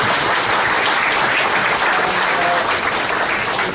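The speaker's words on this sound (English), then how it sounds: "I think we should first give Anil a round of applause." A lecture audience claps together in a dense, steady wash of applause for a talk on environment and entrepreneurship, loud and sustained throughout with no pause.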